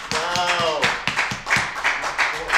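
A small comedy club audience claps for a stand-up comedian, with sparse, distinct, near hand claps in an uneven rhythm rather than a full roar; a voice is briefly audible at the start.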